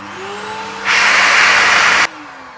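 A steady broadband whoosh of a motorcycle air dryer blowing on low heat starts suddenly, holds for about a second, then cuts off, over a quiet hum.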